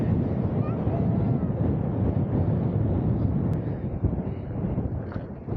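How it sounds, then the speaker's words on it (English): Strong wind at the Bentonite Hills roars and buffets the microphone in a continuous low rumble, with gusts rising and falling throughout. "it is extraordinarily windy here"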